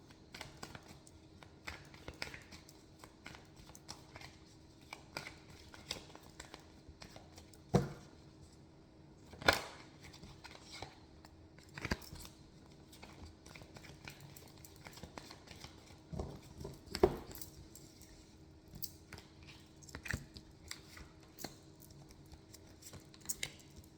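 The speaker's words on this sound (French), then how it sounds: "je vais aller tirer en 9 cartes avec l'oracle des miroirs" Oracle cards being drawn from a deck and laid out one by one, giving faint, sparse taps and flicks with soft shuffling in between, quiet and close in a still room.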